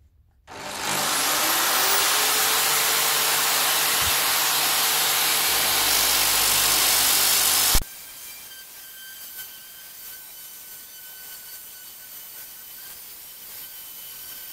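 Another power drill spins with sandpaper, a loud, steady whirring roar that runs for several seconds, then abruptly stops and leaves a quiet background hum.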